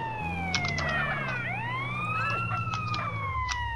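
Wailing siren of an ambulance in GTA San Andreas, sweeping up and down loudly over a low engine hum, continuous throughout without speech.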